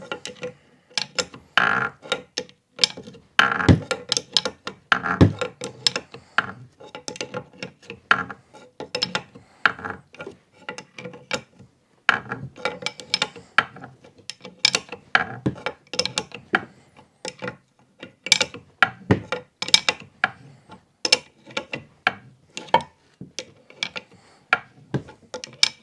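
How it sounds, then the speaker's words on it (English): Crankshaft being drawn into a Honda ATC 250R engine case as a puller tool is tightened, giving dense irregular mechanical clicking and ratcheting taps in quick bursts, close and fairly loud, with no talk. "So now we're going to pull the crank in while I'm tightening this."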